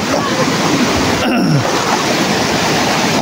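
A river rushes steadily where wild yam is being soaked, a loud close-up wash of flowing water with a brief splash or disturbance near the middle.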